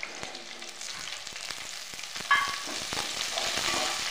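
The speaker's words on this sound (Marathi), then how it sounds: "लसूण पात 2 मिनिटं अशी भाजून घेते मस्त तेलामध्ये।" Chopped garlic greens and spring onion greens fry in hot oil in a pan, a soft, steady close sizzle with occasional stirring clinks and crackles.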